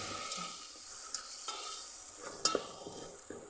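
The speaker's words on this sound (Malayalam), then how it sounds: "ഇതെല്ലാം ഒന്ന് നന്നായി ഇളക്കുക." Chicken parts masala curry with chicken masala and garam masala is stirred in a pan: a soft sizzle plays under a handful of spoon scrapes and taps, fairly quiet and close, with no talking.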